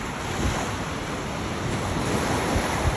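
Strong ocean waves surge and wash continuously onto the beach at Varadero, Cuba, a steady, loud roar of surf with wind buffeting the microphone and no voices.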